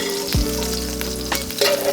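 Sausage browning in a hot pan for dirty cabbage gives a loud, close, steady sizzle and crackle, with a scrape of stirring and a metallic clink partway through, no voices.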